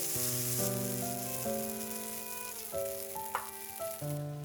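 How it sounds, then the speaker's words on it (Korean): Crumbled tofu used as rice is stir-fried in a pan until its moisture cooks off, giving a steady sizzle and occasional scraping stirs under soft background music, with no one talking. "물기가 날아가서 고슬고슬해질 때까지 볶아주면 돼요."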